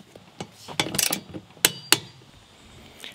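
Torque wrench ratcheting on a car chassis brace anchor bolt as a strut brace is tightened to spec: several sharp, close mechanical clicks in short irregular bursts, with nobody speaking.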